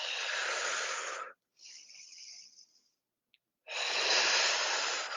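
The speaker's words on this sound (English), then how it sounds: "Now breathe again. Full inhales and exhales." Deep, full breaths during a strength and yin workout: a long, loud airy exhale, a softer inhale, a pause, then another long heavy exhale, all close and with no talking.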